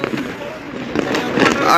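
Fireworks and firecrackers go off across the capital, Dhaka, in a short burst of distant pops and crackles under a speaking voice.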